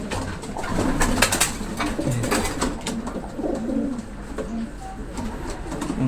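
Breeder pigeons in a loft coo repeatedly in soft, rolling calls, with scattered sharp clicks and shuffles of birds moving close by, and no talking.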